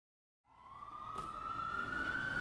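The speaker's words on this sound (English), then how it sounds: "this is an ALS unit coming in with lights and sirens" An ambulance, an advanced life support unit, approaches with its siren sounding: a single rising wail that starts abruptly and climbs into a steady, loud tone, with no talking.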